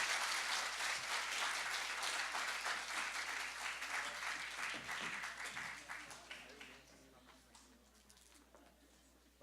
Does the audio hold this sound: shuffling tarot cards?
no